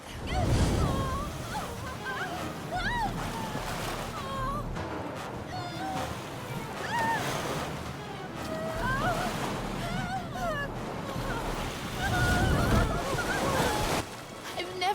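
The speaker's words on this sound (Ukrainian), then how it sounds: "Моря ще ніколи так не вирували." Raging sea waves surge and crash in a Winx Club cartoon scene, with loud swells and wind-like roaring that keep rising and falling. Character voices speak over the water throughout.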